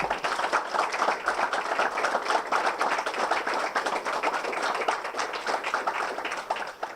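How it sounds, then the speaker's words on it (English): A steady round of applause from a crowd at a lifeguard award ceremony in Nara Park, many hands clapping continuously at a fairly even level, tapering slightly at the very end. "can we just do one big round of applause for them?"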